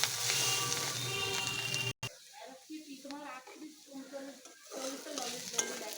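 Food in a pan sizzles loudly and steadily for about two seconds, then the sound cuts abruptly and a quieter stretch follows in which a person talks over faint background noise.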